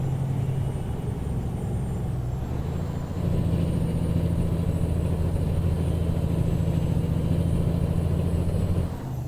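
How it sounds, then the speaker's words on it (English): A UPS Freight truck engine in American Truck Simulator drones steadily with a deep, even rumble that rises slightly in load partway through, continuous and close with no talking. "Let you guys hear this truck work a little bit."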